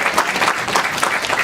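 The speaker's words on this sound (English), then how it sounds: "Let's give you a round of applause." Children and adults applaud together at a library storytime, a close, lively patter of clapping that swells and holds steady with no talking.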